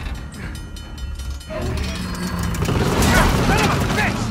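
Train in the Uncharted: The Lost Legacy video game, a heavy mechanical clatter and rumble that swells louder halfway through, with game sound effects layered in.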